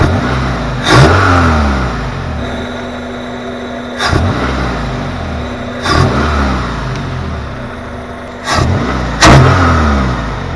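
Honda engine fitted with a new cold air intake, revved sharply several times from idle, each loud close blip rising and falling back, with a short pause between throttle stabs.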